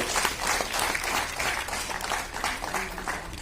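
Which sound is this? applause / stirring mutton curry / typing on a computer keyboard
applause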